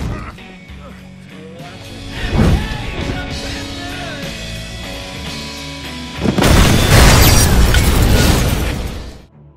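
A vehicle blown up in an action film: a loud booming explosion with a long roaring, crackling tail, preceded by a shorter burst amid music and shouts.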